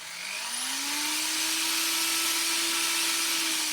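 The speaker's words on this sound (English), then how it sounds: "trying to find the right drill bit size to widen the hole in the battery sensor" Power drill widening a hole in a car battery sensor, a steady whining motor that spins up with a rising pitch and then holds level, loud and close.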